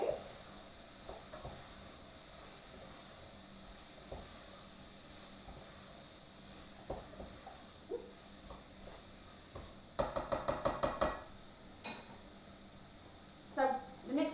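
Onions and spices fry in a pan for red lentil dhal, giving a constant bright sizzling hiss close by, with a few light clinks and faint voices toward the end.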